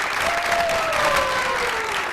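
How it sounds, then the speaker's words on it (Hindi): A studio audience breaking into loud applause, dense steady clapping sustained throughout, with a faint voice rising briefly above the crowd. "तो जोर की तालियां बज जाए जल्दी से।"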